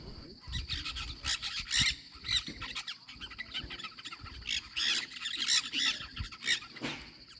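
Loud, harsh squawks of nanday parakeets burst out repeatedly in an irregular chorus, close by, with short gaps between calls, in the Pantanal, Miranda, Mato Grosso do Sul, Brazil.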